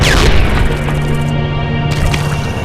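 A heavy grenade-like explosion from the Freedom Force vs the 3rd Reich video game, a loud, sustained boom that rumbles and fills the whole short moment.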